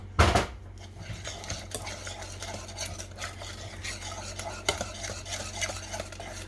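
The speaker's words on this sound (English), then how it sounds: "we're going to whisk them in" Melted chocolate mixture is whisked into eggs in a bowl, giving a soft, quick, continuous scraping and clinking close by, with a louder knock at the start.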